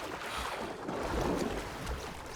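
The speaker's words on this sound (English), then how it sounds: "Beautiful waterfall." A waterfall in the video game Assassin's Creed Shadows gives a steady, broad rushing roar of falling water, close and constant, with no voices over it.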